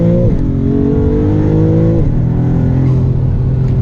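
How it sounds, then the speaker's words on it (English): A 2024 Maserati MC20's turbocharged engine roars and revs up close, its pitch climbing, dipping at a gear change, then rising again with a whirring turbo hiss on top. "See that turbo noise?"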